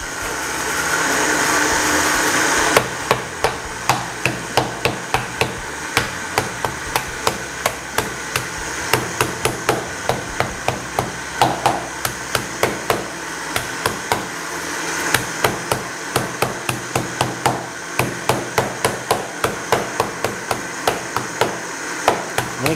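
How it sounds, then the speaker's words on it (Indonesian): Spices for Minang dry seasoning are pounded with a hammer or stone pestle, giving a long run of sharp, evenly spaced thuds close up that continue steadily after a brief noisy start. "Ini gepreknya pakai batu lado juga bisa ya."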